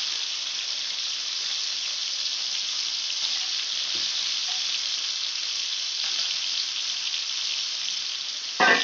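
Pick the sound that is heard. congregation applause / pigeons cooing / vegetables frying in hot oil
vegetables frying in hot oil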